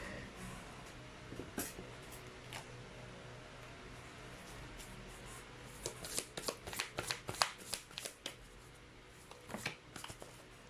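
A deck of cards shuffled for a card reading: soft riffling bursts and shuffles, sparse early and then a quick cluster of crisp riffles, close and quiet over steady room hiss.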